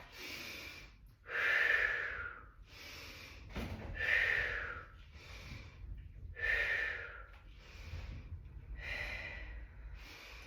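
Heavy breathing during a lunge workout with a weight held in one hand, a run of loud, close inhales and forceful exhales in a steady rhythm, with no talking.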